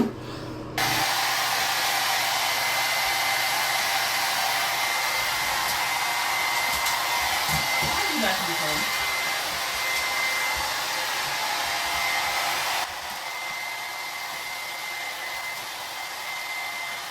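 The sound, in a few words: hair dryer blow drying a pet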